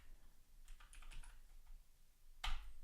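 Quiet clicks of a computer keyboard as a directory name is typed at a terminal, a short run of light keystrokes followed by one louder key press near the end.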